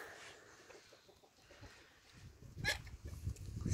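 Hens in a pallet-built coop in a village, including black Pékin caillouté hens, giving soft, faint clucks and rustling close by, with louder movement and scuffling toward the end.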